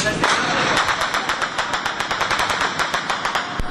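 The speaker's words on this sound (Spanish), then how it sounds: "disparos de fusil que se escuchan cada vez más cerca a sus viviendas" Rapid bursts of rifle fire crack repeatedly in fast, irregular volleys, loud and close, with one heavier shot near the end.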